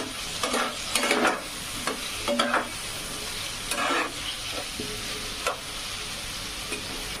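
Paneer frying and being stirred in spiced oil for a Bengali dish, a steady sizzle broken by repeated scraping stirs at an irregular rhythm, close and clear with no talk.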